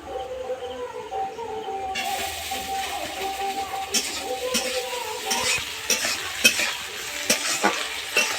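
Onion, ginger, garlic and chopped tomato fry in a pan for a pangas fish curry. The loud, close sizzle swells when the tomato goes in, and a spoon scrapes and clinks against the metal pan again and again.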